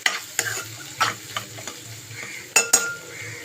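Egg curry mixture stirred in a hot pan, a steady soft sizzle broken by repeated scraping strokes of a spoon, with a few sharper clinks near the end, close and moderately loud.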